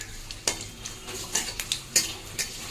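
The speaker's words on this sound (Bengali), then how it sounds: "এখানে আমি শুকনো লঙ্কা, একটা তেজপাতা আর একটু জিরে ফোড়ন দিয়ে দিয়েছি" Dry red chilli, a bay leaf and cumin seeds tempering in hot oil with a little ghee, a faint sizzle under repeated sharp clinks and scrapes of a spoon stirring against the pan.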